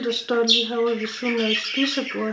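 Four pet budgerigars chatter and squawk in the background near a dining table, their high chirps partly masked by someone talking in Danish close to the microphone.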